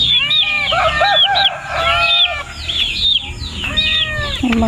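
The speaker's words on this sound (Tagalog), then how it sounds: "May mga chicken." Several chickens cluck and a rooster crows repeatedly at a farm in Cordon, Isabela, the calls close and loud over steady outdoor background noise.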